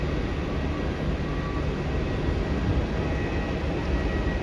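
A jet airliner at Melbourne Airport, bound for LAX, gives off a steady, loud broadband roar that holds evenly throughout with no voices.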